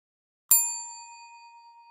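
A notification bell sound effect: one bright metallic ding that strikes sharply and rings on with a long, slowly fading tone against silence.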